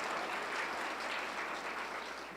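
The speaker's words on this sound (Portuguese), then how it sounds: "Aplauda o Senhor, glória a Deus." A church congregation applauds during a baptism celebration service, a soft, continuous wash of many hands clapping at some distance, with no break.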